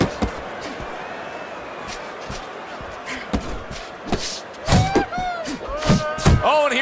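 Punches landing in a Fight Night Champion boxing match, a series of sharp thuds and slaps that bunch together toward the end over steady crowd noise, with commentators talking throughout.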